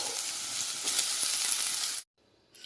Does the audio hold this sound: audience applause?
no